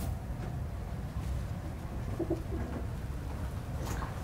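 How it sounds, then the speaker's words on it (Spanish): Soft pigeon coos, low and muffled, repeat over a steady rumbling background with no talking. "Están dormidas algunas palomas que nos encontramos aquí"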